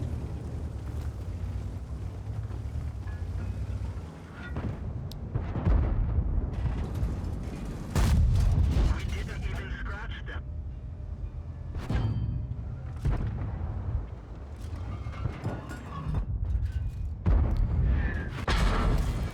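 Heavy artillery shells bursting in the World of Tanks video game, several deep booming explosions of varying loudness spread across a rumbling battlefield backdrop, some near and powerful, others duller.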